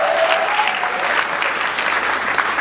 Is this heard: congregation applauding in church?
yes